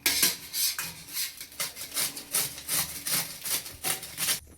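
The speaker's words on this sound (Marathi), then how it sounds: "आता मी इथं मुळा किसते" Rhythmic scraping strokes of a radish being grated, about two per second, steady and close.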